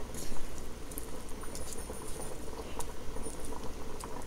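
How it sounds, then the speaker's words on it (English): Gluten-free noodles boiling in a pot for a lo mein stir fry, a steady dense bubbling patter close up with faint higher clicks and no voices. "cooking up some of my gluten-free noodles right now"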